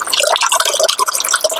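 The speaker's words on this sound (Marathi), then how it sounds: "कुकरमध्ये पाणी ना पूर्ण आपलं वाटण आहे ना बुडून जाईल एवढं पाणी घ्यायचं" Water poured into a pressure cooker over ground masala paste for pani puri ragda, a close, steady trickling and splashing fill with bright dripping texture throughout.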